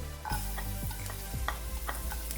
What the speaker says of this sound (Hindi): अभी इसको मीडियम फ्लेम में आधे मिनट तक फ्राई करेंगे।